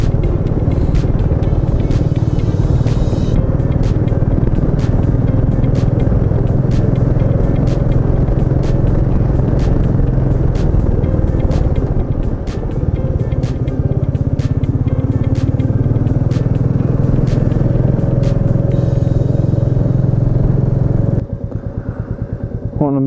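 A Royal Enfield Meteor 350 motorcycle plods along at low speed through a busy town centre, its single-cylinder engine a steady loud thumping rumble heard close up throughout with faint traffic around, dropping off sharply near the end.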